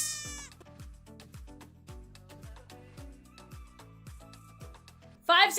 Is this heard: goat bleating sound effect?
yes